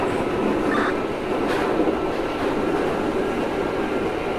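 A New York subway train runs in the openBVE metro simulator game, a steady, loud rail rumble with faint clickety-clack wheel noise that continues unbroken for the whole stretch, with no voices over it.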